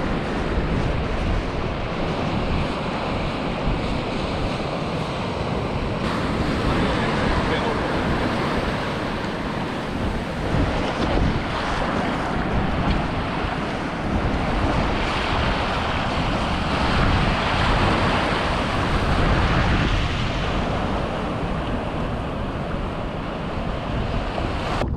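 Surf breaks continuously on a remote South Australian beach at Salt Creek, a loud, steady wash of whitewater with strong wind buffeting the microphone throughout and no voices.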